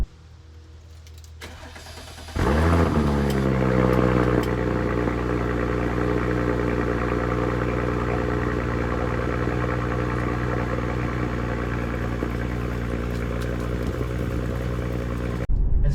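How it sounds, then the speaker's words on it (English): A 2019 Audi SQ5 with a valved exhaust in dynamic mode starts up with a sharp flare, then settles into a steady, deep, close idle rumble that holds for many seconds. "It's got some off-throttle burbles and crackles and pops."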